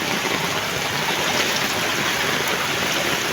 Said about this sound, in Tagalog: Bali ang lakas ng alon ng tubig.